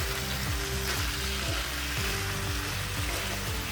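Mongolian beef stir-frying on high heat in a cast iron skillet, a loud, continuous close-up sizzle and crackle that stays steady throughout, with faint background music under it.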